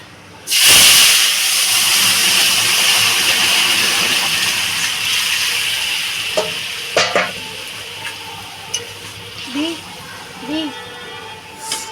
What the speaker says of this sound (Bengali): বন্ধুরা তরকারিটা ঢেলে দেবো